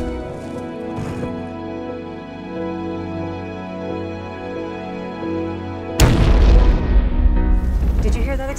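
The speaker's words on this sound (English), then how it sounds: "Did you hear that explosion?" A big explosion from a TV drama trailer lands as a sudden loud boom over a sustained music score, its low rumble rolling on for a couple of seconds before fading.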